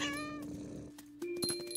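A cat meows in the video game What Remains of Edith Finch, with drawn-out tonal cries and a second sharper call near the end, set against a soft game backdrop.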